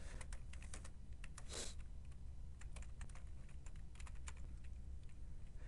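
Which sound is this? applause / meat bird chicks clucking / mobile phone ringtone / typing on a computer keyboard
typing on a computer keyboard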